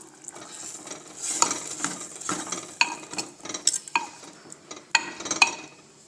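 A spoon stirs soaked, boiled val beans into a simmering gravy. Irregular scraping and sharp metallic clinks against the pot sound close by, with a soft bubbling underneath and no talking.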